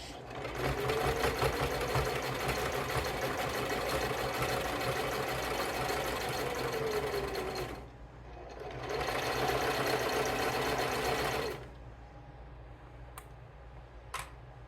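An electric sewing machine runs a straight stitch with a back stitch, whirring loudly and steadily for several seconds, pausing briefly, then running again before stopping, followed by a couple of faint clicks.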